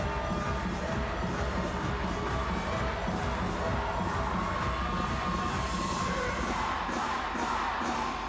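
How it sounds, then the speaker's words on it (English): A packed crowd roars and cheers at a college track meet between Pittsburgh and Clemson, a dense, steady wash of voices sustained at full volume throughout, with no single voice standing out. "The crowd is erupting."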